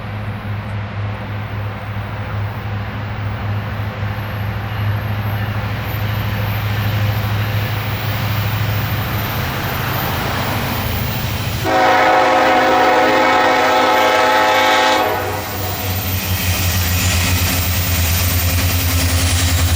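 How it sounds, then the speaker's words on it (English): Freight train led by two EMD SD70ACE locomotives on the KCS Beaumont Subdivision, with an SW1500 switcher trailing: a steady low diesel rumble and rolling wagon noise, swelling louder and brighter midway as the engines pass close, with no talk. "Leading the charge was two EMD SD70 ACE locomotives number 4195 and 4012."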